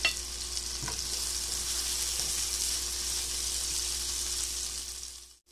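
Onions sizzle and fry steadily in hot oil with garam masala, a dense continuous crackle close up, with a faint stir around the first second before the sound cuts off near the end.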